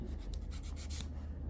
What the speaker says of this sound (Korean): 파일을 갖다 대서 기울인 다음에 갈아주기.